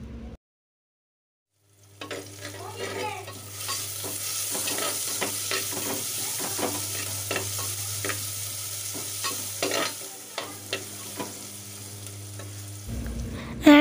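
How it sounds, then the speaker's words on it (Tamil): Chopped onion and garlic sizzle steadily in hot oil in a pan, with repeated scraping and stirring strokes over a continuous fry, close and moderately loud, without talk. "நாம் கட் பண்ணி வச்சுருக்க வெங்காயமும் பூண்டும் சேர்த்து இதை நல்லா வந்து வதக்கிக்கலாம்."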